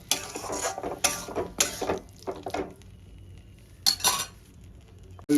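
Potatoes being stirred and sautéed with a splash of water in a pan over low-to-medium flame, with repeated metallic scrapes and clatters of a spoon against the pan in irregular bursts, close by.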